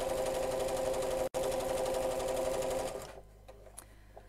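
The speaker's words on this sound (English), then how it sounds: "We need to sew around the corners." A sewing machine runs steadily as it stitches piping around the corner of a fabric piece, a close, even mechanical hum that stops abruptly near the end and leaves faint handling noises.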